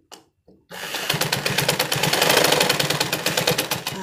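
A sewing machine top stitches the joined band of a woman's underwear, starting after a brief pause and then running as a steady, fast, close mechanical whir with regular needle ticks for several seconds.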